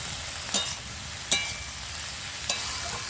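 Snake gourd (chichinga) fries in a pan with a constant hissing sizzle, punctuated by three sharp stirring clinks spaced about a second apart, with nobody speaking.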